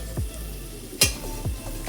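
A spatula stirs dry potato bhaji with crushed peanut powder in a pan, giving several distinct scraping strokes, one sharper than the rest, over a soft, steady sizzle.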